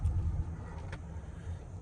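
A 2015 Lexus ES 350 mid-size sedan drives along with a faint, smooth low engine and road hum. A brief higher swish rises partway through, and no one speaks over it.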